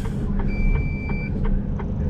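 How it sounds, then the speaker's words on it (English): Reversing beeps from a truck near an industrial estate, a steady series of evenly spaced electronic beeps under constant road and engine rumble, fairly close and clear. "It's really annoying that beeping noise, isn't it?"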